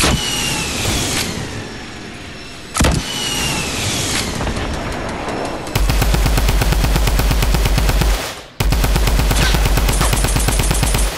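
Rapid gunfire in Fortnite, first a few sharp shots, then dense machine-gun-like bursts of loud repeated cracks with brief pauses between volleys.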